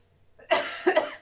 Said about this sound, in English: I'm trying so hard not to cough.